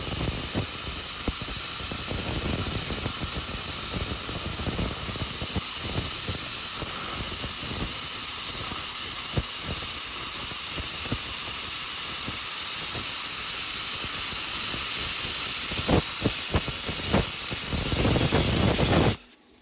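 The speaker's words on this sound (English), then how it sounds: "So pretty sweet when it comes to having a plasma cutter in the garage." YESWELDER plasma cutter slicing metal in a garage, a loud continuous hissing, crackling arc roar with rough flutter, running steadily for nearly twenty seconds before cutting off abruptly at the end.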